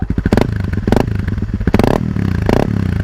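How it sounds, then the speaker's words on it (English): A motorcycle engine revs in several sharp bursts, its exhaust note rising and falling in quick repeated blips, loud and close with a rough, crackling edge between throttle pulls. "let's get a little exhaust note there for you"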